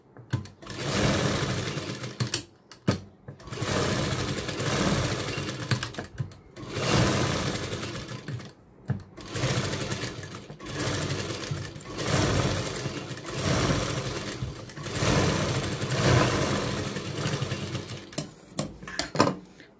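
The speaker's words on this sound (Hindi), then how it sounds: "तो हल्का हल्का मार्जिन देते हुए राउंड में स्टिच कर लेंगे।" A sewing machine stitches fabric in a circle for a rose tassel, running in repeated bursts of close, rapid whirring separated by brief pauses.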